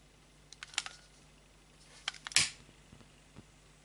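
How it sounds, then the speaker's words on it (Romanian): A lighter is struck close by while making wire-and-petal parts for a flying duck orchid craft: a few sharp clicks, the loudest near the middle, with no talking. "Pornim bricheta"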